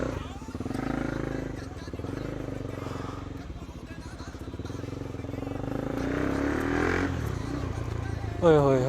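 A Bajaj Pulsar NS400Z motorcycle engine runs just after a service, a loud continuous close rumble that holds steady and swells near the end, with muffled voices underneath.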